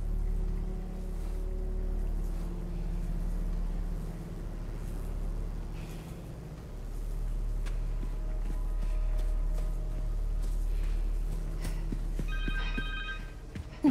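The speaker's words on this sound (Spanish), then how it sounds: "Un teléfono." A phone rings inside Marvel's Spider-Man 2, a repeating electronic tone entering near the end over a low, steady game ambience with soft footsteps and rumble.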